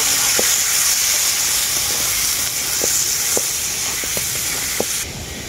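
Amra pickle mixture with turmeric and salt hisses steadily in a pan, a continuous close sizzle broken by a few soft spoon taps while being stirred, cutting slightly quieter at the end.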